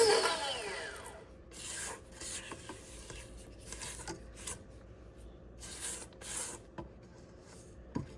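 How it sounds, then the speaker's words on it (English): A spatula scrapes the sides of a mixing bowl of pound cake batter in soft rubbing and rasping strokes, fairly quiet and irregular, with no speech. "Now I'm going to turn it off and scrape the sides."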